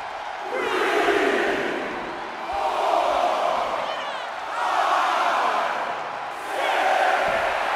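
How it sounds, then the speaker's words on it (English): A large arena crowd in the wrestling video game WWE 2K24 roars and cheers continuously in loud swelling waves, a dense wall of voices that rises and falls. "The sound of this crowd is deafening, and he's asking for more."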